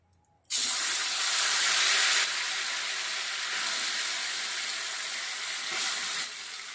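Mashed cauliflower, tomato and green chilli drop into hot oil with a sudden loud hiss that settles into a strong, steady sizzle, close by and sustained throughout with no talking.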